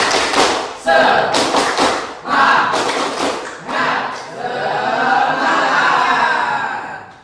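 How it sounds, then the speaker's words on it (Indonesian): A group of children in a classroom perform a rhythmic 'tepuk semangat' clapping chant, with loud bursts of claps and shouted voices in a patterned beat that end in a long sustained group cry. "Tepuk semangat"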